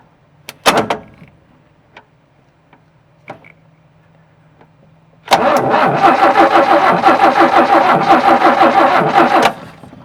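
A 1967 Chevy C10 engine, long parked, cranks over after a door clunk and a few faint clicks; the starter churns in a fast, even rhythm for about four seconds, loud and close, then stops.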